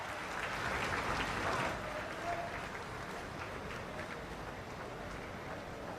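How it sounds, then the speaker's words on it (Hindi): An audience at the Kushinagar International Airport inauguration applauds, a dense wash of clapping that is slightly louder at first and then continues steadily at a moderate, somewhat distant level. "एक बार जोरदार तालियों के साथ अभिवादन"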